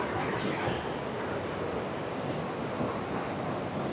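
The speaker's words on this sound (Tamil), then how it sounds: "ஐயோ அங்கே கொட்டுது, அருவி கொட்டுது." A steady, dense roar of the Athirappilly waterfall pouring in monsoon season fills the whole clip, loud and constant, with no voices.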